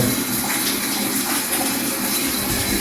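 Water gushes from a campsite shower tap at Mkhuze in a steady, loud, hissing stream, continuous and close, with no talking.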